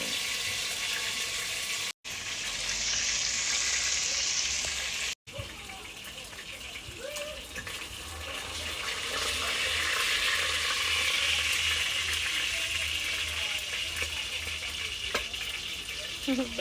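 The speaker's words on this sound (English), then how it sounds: "You can still see the oil frying." Oil sizzles and crackles steadily as barracuda fries in a pan outdoors, a continuous frying hiss with faint background noise, fairly close.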